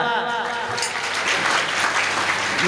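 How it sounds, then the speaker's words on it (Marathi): Audience applause at a Marathi kirtan, a burst of dense clapping that rises quickly and holds loud over the full stretch, with a voice audible at the start. "टाळ्या वाजवा"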